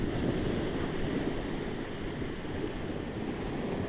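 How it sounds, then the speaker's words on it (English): Ocean waves roll steadily onto a shore at sunset, a continuous broad wash of surf with some wind noise, fairly close and constant with no voices. "You can hear the ocean gently turning over"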